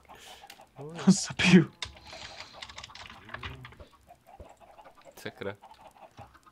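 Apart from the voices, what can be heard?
chickens clucking in Minecraft video game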